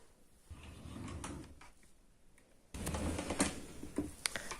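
Wooden dresser drawers being slid and handled, with soft rumbling slides, knocks and a louder scrape and thump partway through, close by and without speech.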